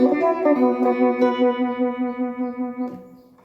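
A plucked phin note rings through a BOSS ME-25 effects pedal, wavering and pulsing with echo as it slowly fades out.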